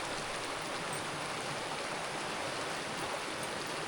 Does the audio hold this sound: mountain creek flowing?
yes